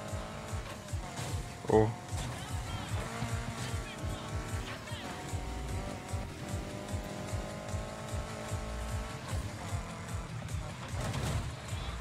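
A car drifting in the Need for Speed Heat racing game, a steady engine drone with tonal tire squeal layered over it throughout, while someone talks and exclaims over the gameplay.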